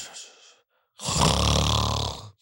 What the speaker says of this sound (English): He slept and snored for the final 2 hours of the movie.